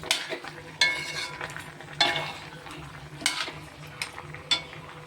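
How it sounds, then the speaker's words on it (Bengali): Fried potato, pumpkin, eggplant and fish head are stirred together in a pan, with a gentle sizzle beneath repeated scraping strokes and spatula knocks about once a second. "এবার আমি এর মধ্যে ভাজা আলু, কুমড়ো, বেগুন, মাছের মাথা সব ভাজাগুলো দিয়ে নাড়াচাড়া করব।"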